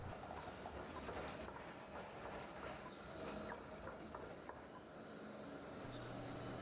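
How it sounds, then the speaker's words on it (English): A tram rolls through central Melbourne with a steady rumble and faint rail clatter, heard at a moderate distance amid street ambience and occasional birds, with no talk. "The trams in central Melbourne are free."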